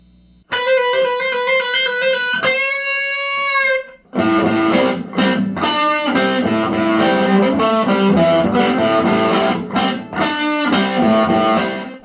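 Heavily distorted electric guitar cranked to high volume, sustained overdriven chords and a ringing held note, then a dense, loud, continuous stretch of saturated playing with no voices.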